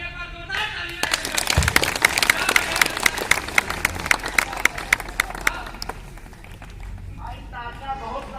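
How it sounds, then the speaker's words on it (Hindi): Audience at a large outdoor Hindi poetry gathering in a park bursts into loud, sustained clapping for a poet, crisp dense claps building after a second and fading near the end, with voices heard before and after. "एक बार जोरदार तालियां"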